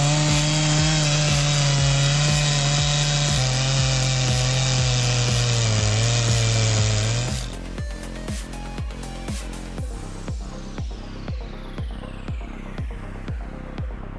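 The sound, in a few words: Stihl 880 chainsaw cutting through wood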